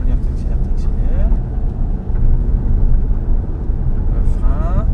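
A Nissan Juke on EasyDrift tyres roars steadily nearby while accelerating through a drift, with rumbling low noise and wind buffeting, while a voice speaks over it throughout.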